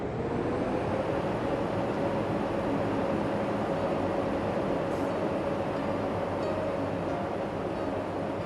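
A train pulls in within the PC railway signalling game Rail Route, a steady, loud mechanical rumble running unbroken throughout with a faint sustained tone on top and no voices.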